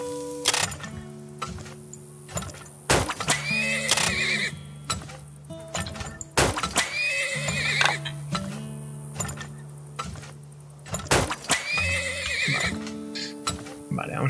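Horses neigh repeatedly in the mining game Turmoil, several loud whinnies spaced a few seconds apart over clicking interface ticks and a steady musical background.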